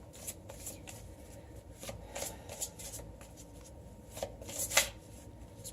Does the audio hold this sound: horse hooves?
no